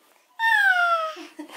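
A cat lets out one loud, drawn-out meow close by, falling slightly in pitch, followed by soft short sounds.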